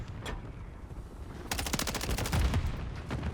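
An MTZ 556 assault rifle fires in Modern Warfare III, starting with a single early shot and then a rapid sustained automatic burst that rattles on to the end, fairly close and crisp.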